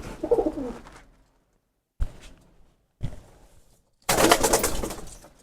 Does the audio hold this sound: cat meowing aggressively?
no